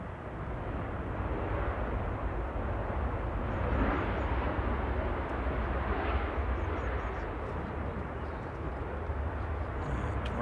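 A steady, broad roar comes from an aircraft, flight 4051 from Faro, at Manchester Airport. The engine noise stays fairly constant and moderately distant, with no voices over it.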